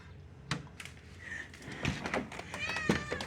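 A house cat meows several times, the drawn-out cries coming near the end, mixed with a person talking and some household knocks and rustling.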